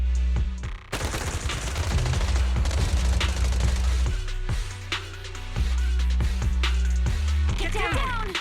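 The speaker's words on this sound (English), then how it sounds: "Gunfire? This pattern. Suppressive marching fire." Suppressive marching gunfire in the video game Zenless Zone Zero: loud, sustained bursts of rapid shots with heavy booms over a low rumbling score, near and relentless, with brief pauses between volleys.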